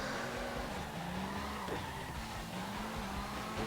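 A car drifting in CarX Drift Racing, with a continuous engine drone and long wavering tire squeal throughout, loud and close with no talk.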